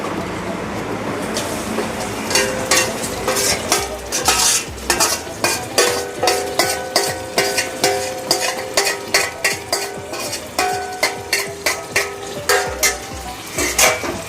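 Marinated goat liver sizzling in a pan, stirred with a utensil that clinks and scrapes in a steady rapid rhythm over a bright frying hiss, close up.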